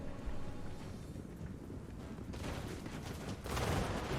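Musket volleys in the Warhammer 2 Mortal Empires battle game, heard as dense, rolling crackles of distant massed gunfire that swell louder toward the end, with no talk over them.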